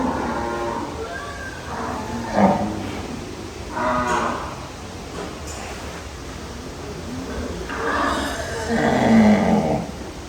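Sahiwal cattle on a large dairy farm lowing in several long, drawn-out moos spaced across the stretch, fairly close and clear over a faint steady background hum.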